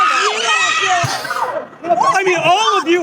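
A person lets out a long, high, wavering screech at a heated street preaching confrontation, close and loud, with other voices and crowd noise mixed in.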